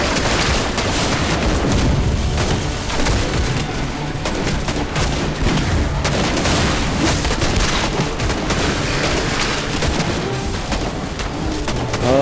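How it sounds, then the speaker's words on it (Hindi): Fireworks exploding in Doomsday: Last Survivors: a dense, unbroken barrage of crackling bursts and booms, loud and close, sustained throughout like rapid gunfire. "इतना बड़ा वाला इतना जबरदस्त दमदार शानदार फायर वर्क"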